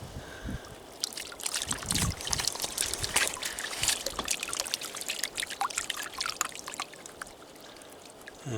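Water and ore swirled in a gold pan while working mystery dump ore, a continuous close sloshing and trickling with gritty scraping, steady and moderately quiet without talking.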